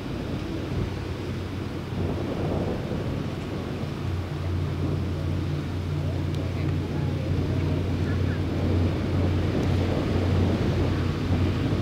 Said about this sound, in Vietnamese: Sử dụng hai động cơ Rolls Royce MTO đời mới nha.